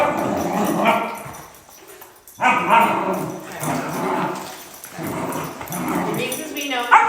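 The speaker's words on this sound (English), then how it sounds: "our shyest puppy today is Willie, who's the little baby hound" A shy hound puppy gives soft barks, yips and whimpers, mixed in with a person talking close by.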